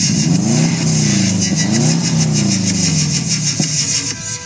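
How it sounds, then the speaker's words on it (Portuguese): A car engine revs loudly nearby with a rising and falling pitch that swings several times, steady and continuous throughout. "Vou lá acelerar o carro."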